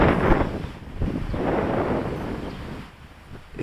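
Gusty wind buffets the microphone outdoors on a windy day, giving a loud, uneven rumble that swells and eases over a few seconds.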